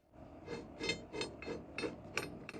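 A tube being screwed into a homemade clamp, producing a rhythmic series of about seven ratcheting, grinding turns, close and fairly quiet, with no talking.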